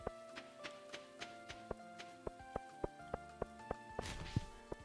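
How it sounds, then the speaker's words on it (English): Light rain patters softly in a farming video game under gentle background music, with regular, evenly spaced tapping footsteps running through it and a brief louder rustle near the end. "Sure has rained a lot in this summer."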